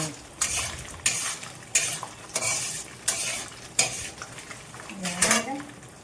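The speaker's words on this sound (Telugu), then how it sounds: "ఒక టేబుల్ స్పూన్ ఆవాలు వేసి ఫ్రై చేసుకున్నాం" Mustard seeds and peanuts fry in hot oil in a pan, a crackling sizzle punctuated by about eight evenly spaced scraping stirs of a metal spoon against the pan, close and clear.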